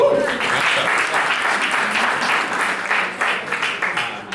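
Guests at a company event get a round of applause, a steady crowd of many hands clapping near and loud, slightly thinning and becoming more scattered toward the end.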